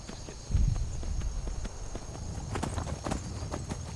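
Hooves of a dappled gray horse clip-clop steadily on a road in Skyrim, a close, even walking rhythm with a heavier thud near the start.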